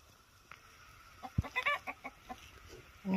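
A chicken clucks in a short series of close, distinct calls, with quiet background noise in between and no voices.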